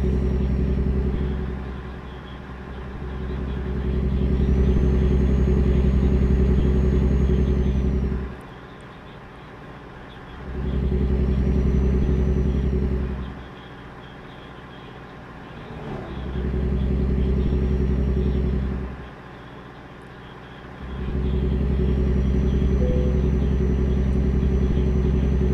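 A heavy truck engine in American Truck Simulator drones steadily with a deep rumble, swelling and easing in long repeated cycles as the rig drives along, with no voices.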